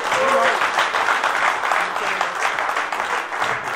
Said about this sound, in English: Come on, give them a round of applause.